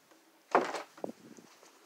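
A door in a house opens with a sudden scraping thump followed by a softer knock and faint rattling, close and alone against near silence.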